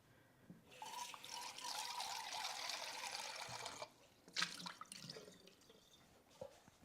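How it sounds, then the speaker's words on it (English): Water runs steadily from a tap while a cup is rinsed in a home kitchen, a broad continuous splash lasting a few seconds before cutting off, followed by a few clinks and small drips. "And then I'm gonna rinse this cup."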